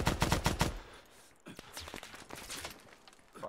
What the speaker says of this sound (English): we're taking fire from southwest 204 somewhere